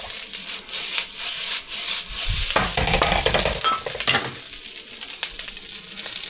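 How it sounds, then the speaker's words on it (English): Fried rice with smoked brisket and kimchi tossed and stirred in a hot preheated pan, a steady loud sizzle with scraping and rustling tosses up close. "Give it some good tosses, try and get those grains a little bit separated."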